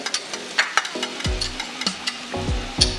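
Butter and garlic hit a hot pan and sizzle steadily, broken by several sharp metallic clanks and stirring scrapes. The sounds are close and fairly loud, with no talking.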